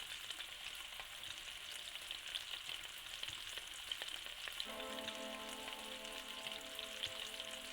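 Burger patties sizzle on a grill in the cooking game Galaxy Burger, a steady broadband frying hiss running throughout, with a faint tonal chime layered in over the last few seconds.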